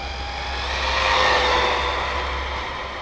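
RC car at full throttle in a speed run, a steady buzzing motor whine that swells slightly mid-run and holds loud and continuous, with no talk over it.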